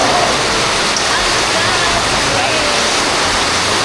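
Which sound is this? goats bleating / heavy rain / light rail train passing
heavy rain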